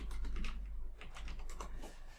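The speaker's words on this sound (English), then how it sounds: "I'm just going to start off by typing" Quick, irregular clicking of a computer keyboard being typed on, soft and close, keystrokes in short bursts with brief pauses between them.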